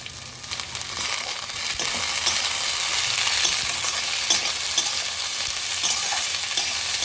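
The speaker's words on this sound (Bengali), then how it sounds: "এবারে আমি একে একে দিয়ে দিলাম গাজরগুলো আর দিয়ে দিচ্ছি বিনস আর দিয়ে দিলাম মটরশুঁটি" Onion, carrots, beans and peas stir-fried for chowmein make a continuous close sizzle, broken by a few stirring scrapes and clicks of a spatula against the pan, with no talking.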